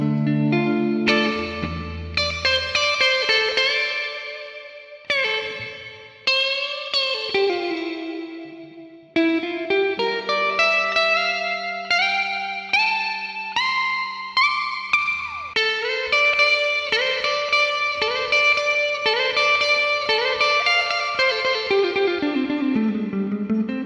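A 1974 Gibson L6 Midnight Special electric guitar on its neck pickup plays a sustained, melodic passage of clean single notes and chords with chorus and echo effects, loud and continuous with no talking.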